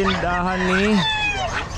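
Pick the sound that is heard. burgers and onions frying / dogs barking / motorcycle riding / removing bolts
dogs barking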